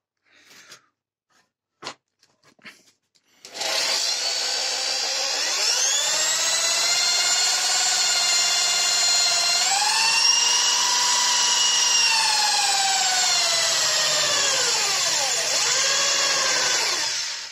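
Power drill boring a hole in tool steel: a few faint knocks, then a loud high whine starts and holds steady, dipping in pitch briefly under load before recovering and winding down at the end.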